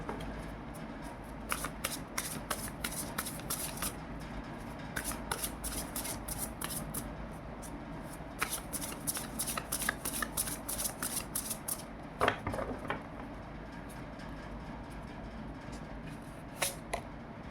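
Tarot cards being shuffled by hand, a long run of quick riffling and flicking bursts that come in uneven clusters, close and fairly quiet, with short pauses between rounds and no speech.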